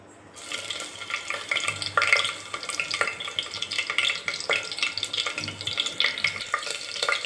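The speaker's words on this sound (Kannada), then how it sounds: "ಎಣ್ಣೆ ಕಾದ ನಂತರ ಇದಕ್ಕೆ ಹಸಿಮೆಣಸಿನ್ಕಾಯಿ ಹಾಕೋತಾ ಇದ್ದೀನಿ" Green chillies dropped into hot ghee in a pan for kuska rice, giving a close, continuous crackling sizzle with stirring scrapes throughout and no talking.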